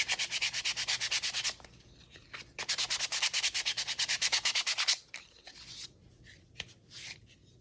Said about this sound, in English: Okay, I'm gonna sand it off.